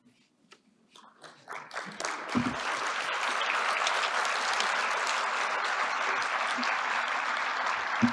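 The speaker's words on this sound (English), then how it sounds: "please stand so we can recognize you with a round of applause" Applause at a conference plenary session starts with a few scattered claps, then quickly builds into full, sustained clapping from a large standing audience in a hall that carries on evenly to the end.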